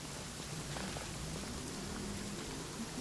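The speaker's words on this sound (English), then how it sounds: "It's raining." Steady rainfall in Genshin Impact, a soft continuous hiss of drops on surfaces, moderately quiet and even throughout with faint game sounds beneath.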